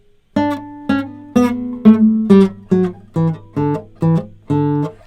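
Guitar played staccato, about ten short, cut-off notes in an even rhythm, each clipped with a brief gap of silence before the next, clear and close with nothing else behind them.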